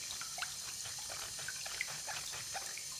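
Tap water runs in a steady, even hiss with faint splashy flutter, continuous and close, with no voices.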